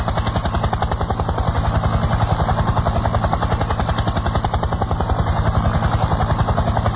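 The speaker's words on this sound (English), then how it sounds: "is going to fly the helicopter inside the audience" A helicopter flying indoors in a hotel ballroom, its rotor beating in a fast, steady chop, loud and close throughout.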